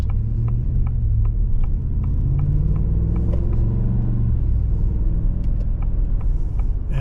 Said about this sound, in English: This 10-speed torque shift shifts so smoothly in this humongous truck.